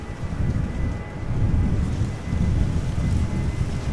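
A 23-year-old KLM Boeing 737-800 departing Amsterdam Schiphol Airport: a loud, continuous low roar of jet engines, rumbling steadily with gusty wind buffeting the microphone.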